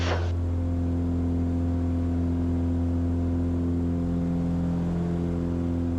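Steady, loud drone of a 5000-pound single airplane engine at full power on the takeoff roll, with strong low harmonics and a constant whir that holds through liftoff.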